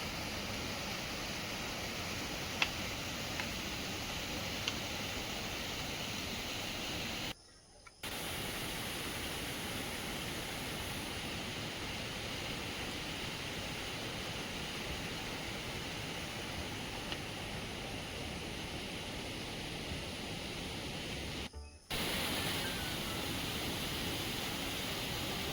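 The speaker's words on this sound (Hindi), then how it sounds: "ये देखो ये हरे हमर दलदली तौली दी के बांध के वाटरफॉल।" Water pouring over the spillway of the Tauli Daldali dam in Chhattisgarh makes a steady, dense roar that holds unbroken throughout, with two brief dropouts and no voices.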